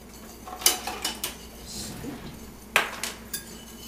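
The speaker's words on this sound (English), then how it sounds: "Whisk that together." Dry cracker ingredients, whole wheat flour and ground flaxseed, are whisked together in a bowl. Close, light metallic clinks and scrapes come in two short bursts with a soft swishing pause between them.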